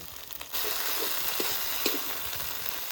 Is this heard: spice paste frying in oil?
yes